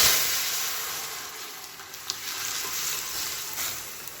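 Spices tempering in hot oil in a pan while cooking a soybean and potato curry, a continuous broad sizzle and hiss with a couple of brief sharp pops, close and fairly loud, without talk.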